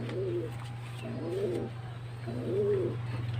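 A red bar pigeon coos three times, each a soft rounded warble, close and clear over a steady low hum.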